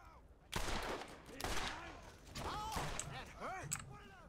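Several loud, sharp sniper rifle shots from Borderlands ring out in quick succession, each with a booming tail, and chirpy electronic game effects sound between them.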